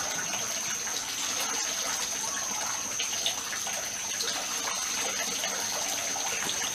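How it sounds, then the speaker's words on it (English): Two taps running at full flow, a steady hissing gush of water pouring continuously at moderate level with no talk. "That's a lot of water flow when they're both going"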